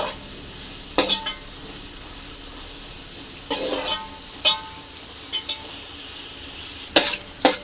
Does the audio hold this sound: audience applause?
no